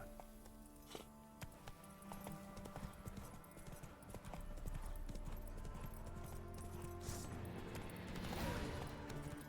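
Roach, Geralt's horse in The Witcher 3: Wild Hunt, trots with rhythmic clip-clop hoofbeats, quiet and steady under game music and ambience.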